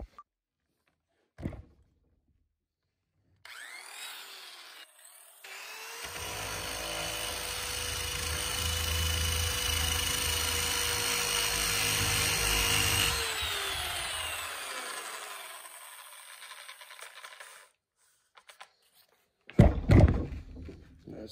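A power sander works on a boat swim platform, a steady whirring grind that builds and holds for about ten seconds before winding down, with a few isolated knocks before and after.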